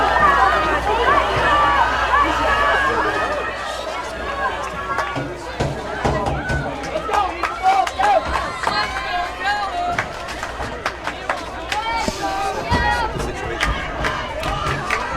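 A rowdy crowd at a high school football game between Mepham and Calhoun roars and yells loudly in the fourth quarter, sustained shouting and cheering with sharp claps and thuds, loudest at first then rising again toward the end.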